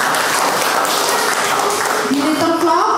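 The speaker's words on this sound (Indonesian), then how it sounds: "Boleh kasih tepuk tangan gak buat Tuhan?" A church congregation applauds for God during a worship service, steady dense clapping from many hands filling the room, with a voice rising over it near the end.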